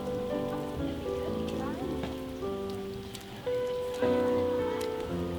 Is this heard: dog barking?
no